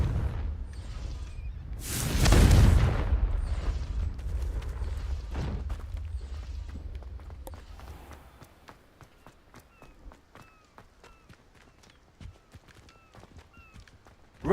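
A Confringo blasting curse in Hogwarts Legacy, heard as a loud booming burst near the start that rolls off, then quick running footsteps patter on alone.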